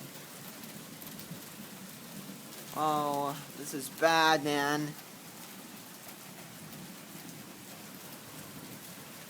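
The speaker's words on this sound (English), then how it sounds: "there is hail coming down" Hail and rain fall steadily during a thunderstorm, making a continuous dense patter throughout. A man briefly exclaims partway through over the noise.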